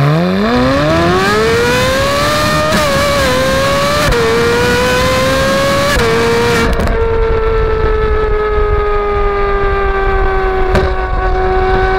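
Ferrari 458 with an IPE F1 titanium exhaust revving hard, the loud rising engine note climbing through several gear-like steps, then holding a high, steady wail before settling, close and dominant without talk.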